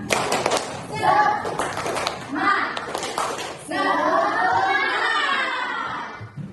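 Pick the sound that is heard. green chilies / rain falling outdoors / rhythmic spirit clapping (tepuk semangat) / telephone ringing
rhythmic spirit clapping (tepuk semangat)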